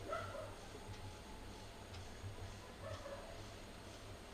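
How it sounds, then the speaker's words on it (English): Dogs barking outside, distant and faint, a few scattered yips and barks over a low steady indoor hum with no talk. "Whoa, you can hear the dogs outside going mad."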